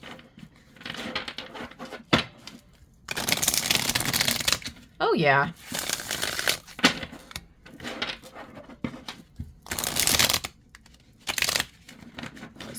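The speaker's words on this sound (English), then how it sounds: "All right, let's see how it shuffles." Tarot cards from a cat-themed deck being shuffled nearby, with repeated bursts of crisp riffling and flicking in irregular spurts, alongside a brief spoken exclamation.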